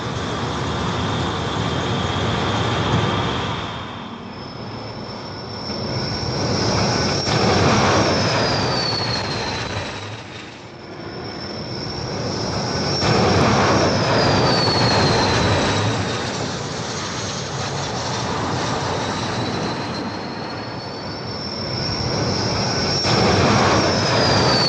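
Jet aircraft landing on an aircraft carrier deck, a loud continuous engine roar that swells and fades in waves, with whining high tones gliding downward, and no voices.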